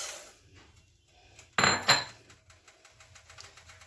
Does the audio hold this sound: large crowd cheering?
no